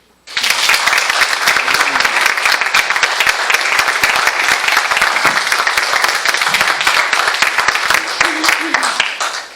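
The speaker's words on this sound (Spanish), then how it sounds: "denle un aplauso al Señor" Loud, dense applause from a large church congregation, starting abruptly and continuing steadily, with occasional voices and shouts mixed in.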